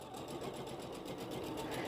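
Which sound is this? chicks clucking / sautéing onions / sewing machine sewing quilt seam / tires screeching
sewing machine sewing quilt seam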